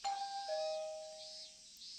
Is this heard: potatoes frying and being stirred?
no